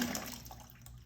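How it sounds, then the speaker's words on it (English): A solenoid valve reopens and lets water flow into an automatic dog waterer, making a brief, soft rush of running water that stays faint and close. "The relay tripped the solenoid, which reopened the valve. Water would be flowing again."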